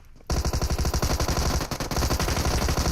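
Rapid automatic gunfire in a battle royale video game during a tournament match, loud continuous bursts of closely spaced shots filling nearly the whole stretch with only a brief dip.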